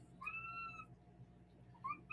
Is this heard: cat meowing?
yes